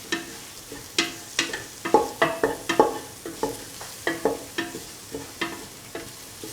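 Chickpeas, carrot and rice stirred and mixed in a pan with a spoon, giving a steady run of distinct scraping strokes against a faint sizzle, close up and alone with no talk.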